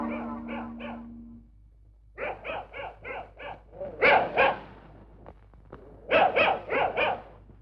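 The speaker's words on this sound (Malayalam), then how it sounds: "പട്ടിയുടെ ധർമ്മം കുറയ്ക്കുക എന്നുള്ളതാണ്" A dog barks in quick bursts of three to five sharp yelps, separated by short pauses, fairly close and clear against a quiet background.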